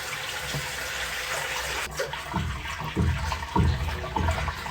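Tap water runs into a clogged sink or drain, splashing and gurgling over a background hiss, with uneven louder surges of water toward the end.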